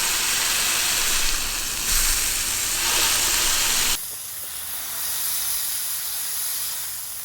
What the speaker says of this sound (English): Throw some hamburgers down. That's what you want to hear.